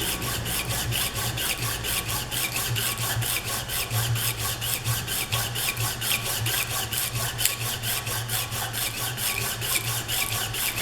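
A metal engineering drill gauge is rubbed back and forth under firm pressure, giving a steady, rhythmic rasping scrape of even strokes, close and continuous with no talk.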